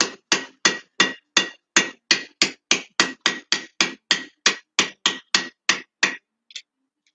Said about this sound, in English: So if you can't tell on the hammer, I'm using a downstroke to try to roll these edges over